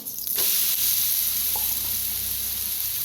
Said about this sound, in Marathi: दोन्ही साईडने छान असं भाजून घ्यायचं